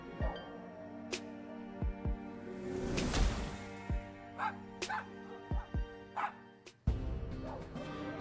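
Small terrier in the video game Lil' Guardsman barking in a quick series of short, sharp yips at an uneven rhythm, fairly close, over a steady background music bed.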